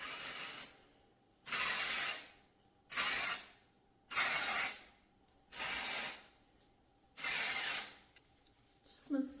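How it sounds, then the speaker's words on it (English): Dry shampoo sprayed into hair from a can, six evenly spaced hissing bursts of about a second each, close and clear, with quiet gaps between them. "Putting the dry shampoo in is gonna help my hair not be so oily in the morning."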